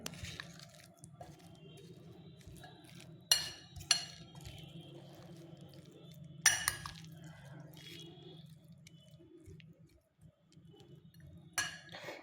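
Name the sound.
mixing soaked sago with fruit in a bowl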